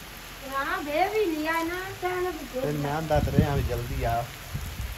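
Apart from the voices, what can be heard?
heavy rain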